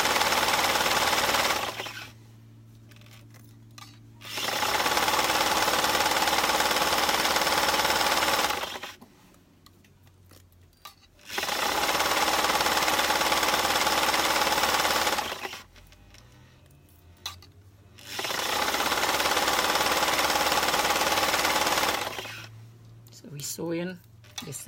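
A sewing machine runs in three long, steady bursts, stitching stretch fabric slowly for a maxi skirt, with quiet pauses between the runs.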